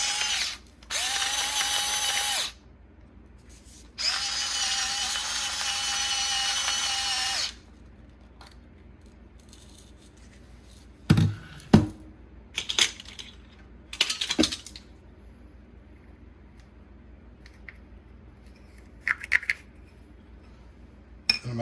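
A salt grinder cranking out fine sea salt while a thin-crust pizza dough is made, two close bursts of rough mechanical grinding, followed by scattered clinks and taps of kitchen utensils.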